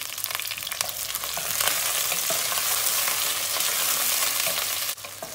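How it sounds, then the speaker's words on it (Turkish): Onions frying in a pan with bay leaves for a meatless potato dish, a steady loud sizzle with faint stirring scrapes and no talking. "Soğanlarımız kavrulmaya başladı."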